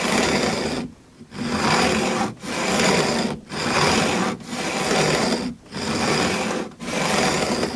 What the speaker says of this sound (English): if I can get to the end of a complete trim without this file edge skipping over the frets